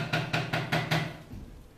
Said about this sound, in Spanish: Seguido de unos golpes de llamador que me despertaron al instante.